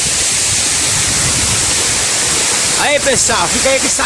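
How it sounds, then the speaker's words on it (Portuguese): A waterfall in the middle of a forest pours in a steady, loud, full roar throughout. A voice speaks over the water near the end. "imagem maravilhosa dessa cachoeira no meio de uma mata aí"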